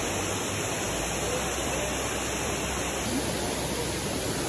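Rushing water from a waterfall on a South Carolina hiking trail, a steady, dense broadband roar that stays constant and fairly close throughout, with no voices.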